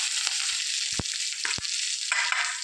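Curry leaves hit hot oil for kadhi with a loud, bright, continuous sizzle up close, broken by a few sharp crackles and pops, and a fresh burst of frying near the end.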